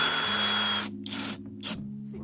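A drill drives a screw into grainy pine through a pre-drilled hole, a steady whirring motor with bursts of higher grinding as the bit bites, close and fairly loud with no talk.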